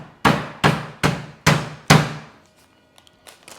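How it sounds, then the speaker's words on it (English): Five heavy, evenly spaced thuds of a hammer pounding meat flat for cordon bleu on a hard surface, followed by a few faint light taps. "You take a hammer."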